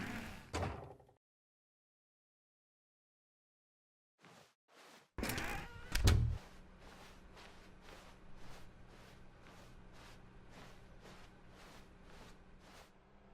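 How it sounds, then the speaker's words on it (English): A door opens in the video game The Stanley Parable: after a long silence come a few soft footstep taps, then a louder thump and clack of the door, followed by a steady low hum with regular faint ticks. "When Stanley came to a set of 2 open doors, he entered the door on his left."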